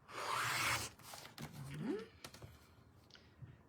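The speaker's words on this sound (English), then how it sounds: "Now cut the width that you need." Quilt fabric being cut into equal-width strips for an Illusion Bargello quilt, giving soft close rubbing and slicing sounds in short bursts, with faint talk around them.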